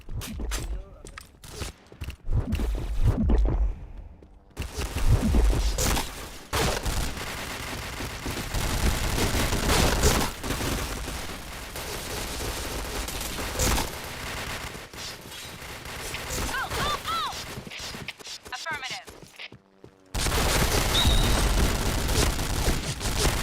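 Rapid bursts of gunfire and booming shots from the shooter game Point Blank crackle in dense, repeated volleys, loud and close, with brief silent gaps and occasional footsteps, while a player talks over the action.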